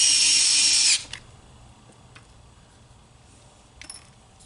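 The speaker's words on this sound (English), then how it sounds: "These little electric screwdrivers are great." A small electric screwdriver whirs in a loud, steady burst for about a second while driving screws into a Tickle Me Elmo toy, then cuts off, leaving faint handling clicks and quiet room noise.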